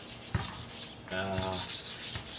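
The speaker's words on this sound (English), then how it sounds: "I'm just going to knock down some of this primer paint and smooth it all out with this 1000 grit sandpaper." Fine 1000 grit sandpaper rubs primer on an alloy wheel in soft, close, repeated strokes, a quiet hissing scrape with a couple of brief taps.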